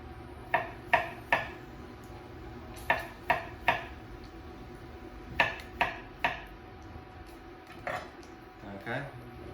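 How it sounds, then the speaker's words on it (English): A knife slicing a cucumber into little rounds on a cutting board: sharp, crisp taps in quick clusters of two or three, with short pauses between, over faint background noise and a murmuring voice. "Okay, and then Charlie's favorite cucumber. Okay, we'll slice this into little rounds."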